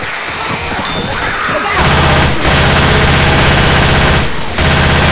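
Loud automatic gunfire in the video game Left 4 Dead 2, Swamp Fever: sustained rapid bursts, close and heavy, broken by two brief pauses.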